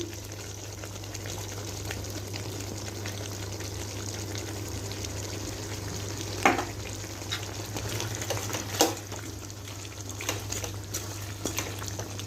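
Chicken sizzles steadily in a frying pan with turmeric under a low hum, with occasional scraping clacks of a utensil stirring the contents.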